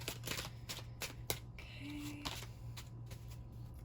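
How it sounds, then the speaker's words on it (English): Tarot cards are shuffled in quick, repeated riffling bursts, close and fairly quiet, under a low steady hum with one short spoken word. "Go ahead and shuffle up these cards."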